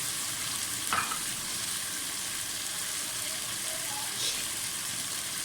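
Tomatoes fry in a pan with a few tablespoons of water added for a potato rice dish, giving a steady, fairly quiet sizzle with a couple of brief splashes and stirring sounds.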